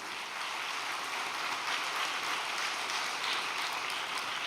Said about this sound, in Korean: 한번 격려의 박수를 부탁드리겠습니다.